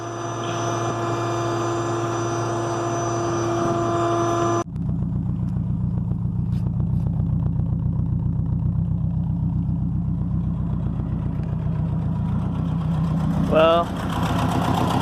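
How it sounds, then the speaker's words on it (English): A Volvo 240 engine idles roughly on three cylinders with a dead fourth cylinder, a steady close, loud low rumble throughout, with a brief spoken word near the middle. "It's running on 3 cylinders right now."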